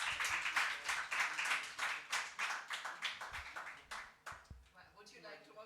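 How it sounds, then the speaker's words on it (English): An audience at a talk event applauds its speakers with fairly even, pulsing claps that keep a steady beat for several seconds, then thin out as a voice starts speaking. "Can we give them a huge round of applause?"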